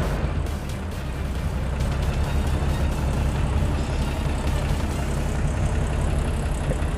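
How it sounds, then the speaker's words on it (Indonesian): A 1979 Toyota Land Cruiser FJ40 Hard Top with a six-cylinder engine idles close by in good health, giving a steady, even low rumble with no misfire or stumble, heard alone without voices. "Derumannya tuh khas sekali dari mesin 6 silinder ini."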